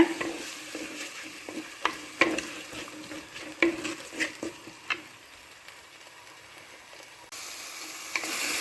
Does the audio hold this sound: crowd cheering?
no